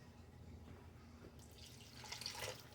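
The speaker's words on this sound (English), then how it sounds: "fill it up with some water and dump that water in there" Water poured from an empty Rotel tomato can into a pot of winter chili, a soft liquid rush that builds and splashes more loudly toward the end, heard alone without talk.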